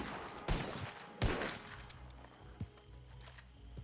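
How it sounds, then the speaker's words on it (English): Gunfire in Red Dead roleplay during casual target practice: two sharp broadband shots about a second apart, followed by a smaller distant crack, over a low steady game-ambience hum. "just giving everyone a chance to shoot him, Mouser."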